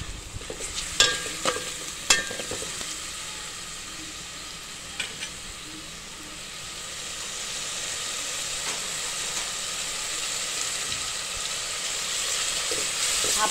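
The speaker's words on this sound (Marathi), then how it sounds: "आलं लसूण कोथिंबीर आणि पुदिन्याची पेस्ट आहे, ती पण आपण चांगली आता परतून घेणार आहे" A ginger, garlic, coriander and mint paste sizzles steadily in a pan, with a few sharp stirring clinks near the start and a soft hiss throughout.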